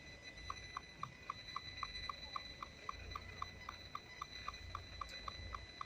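An EMF meter's alarm ticks steadily in a quiet urban street, a rapid, evenly spaced run of short high beeps about four per second, faint over low traffic rumble.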